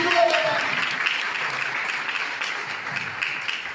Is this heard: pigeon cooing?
no